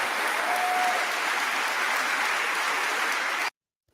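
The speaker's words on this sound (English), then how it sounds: "Listen to that applause." Applause in a played recording of a speech, a thick, even crowd clapping that holds for about three and a half seconds, then stops abruptly into silence.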